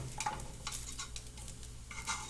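Thin-sliced onions cook in a pan for a Philly cheesesteak grilled cheese, giving a steady soft sizzle with occasional stirring scrapes and light utensil clinks, close and continuous with no talking.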